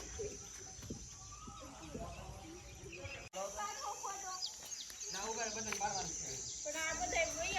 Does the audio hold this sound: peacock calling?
yes